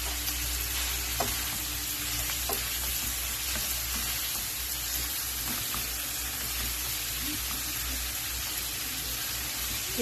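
Chayote and carrots frying in a pan, a steady continuous sizzle with occasional soft stirring clicks, close and even throughout with no talking.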